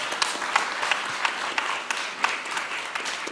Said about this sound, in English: Okay, round of applause here.